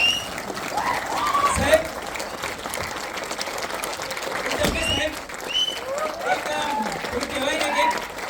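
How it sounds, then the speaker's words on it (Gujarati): An audience applauds in a large hall, clapping spreading throughout while voices speak and call out over it. "આજે તાળીઓ છે ને આ ઓડિટોરિયમમાં તો વાગી જ રહી છે"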